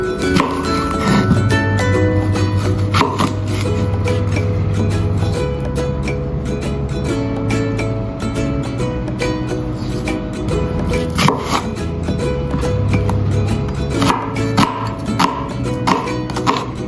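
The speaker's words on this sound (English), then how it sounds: "Chopped onion." A knife chopping onion on a cutting board while cooking a Chinese-style cheese potato minced meat lasagna, with a string of close, crisp taps at a steady rhythm over quiet background music.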